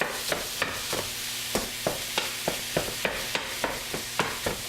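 A spatula scrapes and taps through one pound of ground turkey in a frying pan, with sharp regular strikes about every third of a second over a soft steady sizzle, close and alone.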